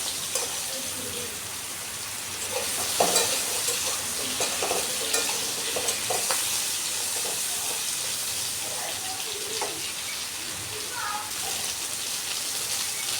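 Potatoes and pointed gourd fry in a pan with salt and turmeric, giving a steady, loud sizzle that runs throughout. Occasional stirring scrapes and clinks sit on top of it.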